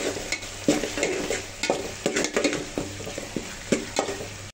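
Finely chopped chicken and peas sizzle in a pot of melted fat for a vegetable pulao, with repeated scraping stirs and light clinks of a spoon against the metal over a steady background fry.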